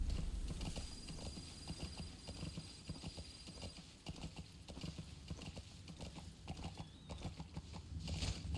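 Horse hooves clip-clop in a steady rhythm in Metal Gear Solid 5, close and continuous at low volume with faint game ambience.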